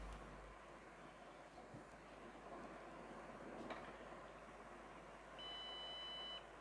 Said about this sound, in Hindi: ये बज़र दे रहा है,